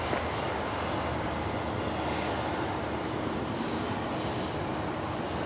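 Airbus A350 jet landing on runway 34 left at Sydney Airport, a continuous even engine roar and rushing air, steady and fairly distant with no talking.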